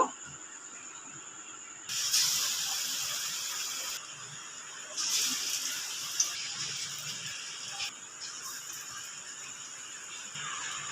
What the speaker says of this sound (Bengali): এবার পটল ভাজবো। একইভাবে পটলগুলো বেসনের মধ্যে কোট করে নেব।